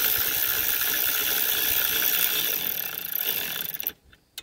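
A ratchet snugs up the mount of a Kuryakin heel shifter on a 2019 Indian Roadmaster motorcycle, a fast continuous clicking close by that stops abruptly, followed by a couple of faint knocks.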